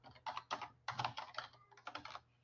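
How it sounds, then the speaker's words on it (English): Fingers tap a computer keyboard in several quick bursts, entering a name on an electronic quote signing form; crisp, close clicks in short runs separated by brief gaps. "they type in their name and they click sign quote"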